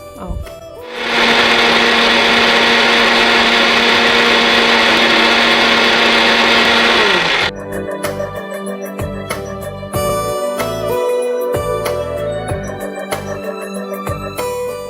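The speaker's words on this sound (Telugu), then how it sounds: "మనం ఇప్పుడు మూత పెట్టేసుకొని మిక్సీ పట్టేసుకోం" Mixer grinder blending an apple and watermelon smoothie with almond milk, a loud steady whirring motor drone that starts abruptly, runs for about six seconds and then cuts off, followed by quieter background music.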